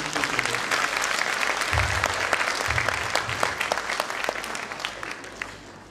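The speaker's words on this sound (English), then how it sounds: "Please give a big round of applause to these two children." An audience at a school annual function applauds two young children on stage, a dense, loud wash of clapping that holds steady and then gradually thins toward the end.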